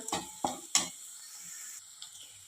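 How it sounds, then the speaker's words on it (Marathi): Dried coconut stirred into a hot tempering for bitter gourd curry: three distinct spatula scrapes and clinks against the pan in quick succession, then a near-silent stretch with faint stray taps. "सुकं खोबरं घालून चांगलं परतून घेऊया"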